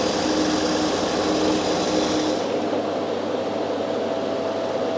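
Citroen XM 3.0 24V engine idling steadily during a cylinder balance test, a loud, even drone with a constant hum that dips and changes tone partway through as the running note shifts.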